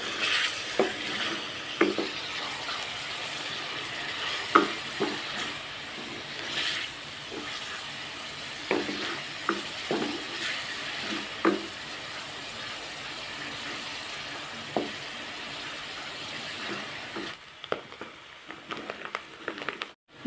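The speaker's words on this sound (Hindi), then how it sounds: "करेले भी हम कीमे के अंदर अच्छी तरह भून लेंगे।" Chopped bitter gourd and minced meat fry in a pan with a constant close sizzle, punctuated by repeated scraping and clacking as a spoon stirs them.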